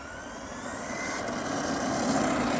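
Electric motor of an Arrma Firma 150 V2 RC car running at low speed, a steady close whine that builds slightly over a couple of seconds, with no talking.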